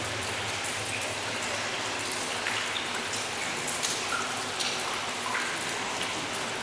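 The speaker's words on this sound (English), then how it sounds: "I stood by where the water droplets coming from the roof, or the ceiling of the tunnel" Continuous dripping and pattering water, dense and close, droplets falling from the ceiling of Netherton Canal Tunnel onto the ground below.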